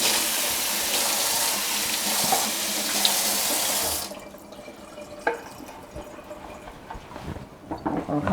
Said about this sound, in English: the reason why I'm washing off my cutting board, even though it's just raw vegetables